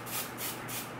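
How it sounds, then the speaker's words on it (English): Shimmer sunscreen is sprayed from a spray bottle in three short, close hissing bursts, each a soft airy spritz with brief gaps between them, and no talking. "I'm just gonna spray it a little and see if it has shimmer."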